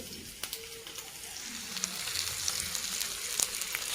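Steady sizzling of semolina-coated fish frying on a flat iron tava, with crackling pops scattered throughout, close up and with no talking.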